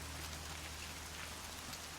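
Heavy, torrential rain in the video game Horizon Zero Dawn, a steady broadband wash of downpour with a low hum underneath, quiet and continuous for the full two seconds with no voices.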